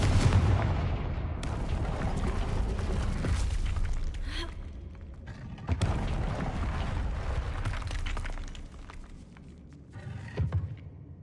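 A Confringo blasting spell going off in Hogwarts Legacy on PS5, with loud, dense explosive booms and crackling debris that roll on for several seconds, then fade and flare up again near the end.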